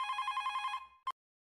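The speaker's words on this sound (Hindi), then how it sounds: "किसका फोन है?" A telephone bell rings in a rapid trill for under a second, followed by one short final ring, clear and fairly close, with no talking.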